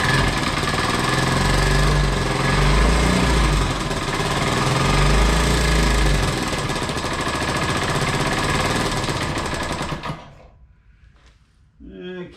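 Honda CT90 motorcycle engine after a rebuild, running loud and steady with a rough, rattling mechanical clatter for about ten seconds before cutting out, leaving near silence with a faint noise at the end.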